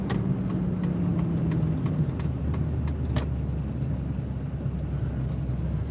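A car drives along a road with a steady, low rumble of engine and tyre noise from inside the cabin, with a few faint light ticks and rattles on top.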